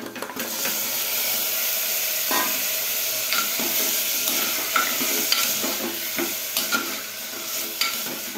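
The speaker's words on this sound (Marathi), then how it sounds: "आता आपण यात चिकन टाकूया।" Chicken pieces sizzle in a hot pan with onion and ginger-garlic paste for kharda chicken, with a steady hiss of frying and irregular scrapes and clacks of stirring close by, no voices.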